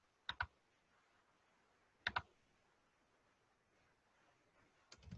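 Sparse typing on a computer keyboard entering Hindi text in Devanagari, with a few quick pairs of key clicks separated by pauses, close and fairly quiet with no voices.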